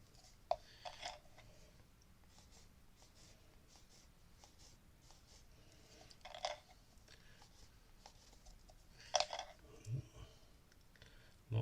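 An ink pen scratches across paper on a ring-bound sketch pad, with quiet faint strokes and a few sharper taps and scrapes spread irregularly through a near-silent room.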